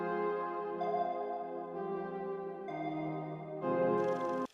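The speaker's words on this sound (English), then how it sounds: "Just added a kind of pluck type sound." A synth pluck preset runs through an arpeggiator into reverb, giving bright, metallic-tinged tones that repeat in a steady pattern and shift pitch in several steps, played alone and fairly quiet.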